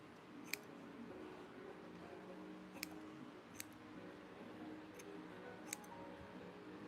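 Scissors snip small stray strands of natural kinky hair, giving five or so sharp, isolated clicks spaced unevenly over a quiet background.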